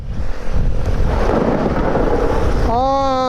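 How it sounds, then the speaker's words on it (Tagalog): Heavy rain pours down during a Honda Beat scooter ride through a forested hillside near Marikina, a loud, continuous roaring wash close to the mic, with a brief tonal horn-like sound rising near the end. "Sobrang lakas ng ulan, mababasa yung GoPro eh."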